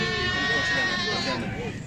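Goats at a bakra mandi (goat market) in Gujrat bleat in wavering, drawn-out cries throughout, close by and steady, with people talking over the livestock.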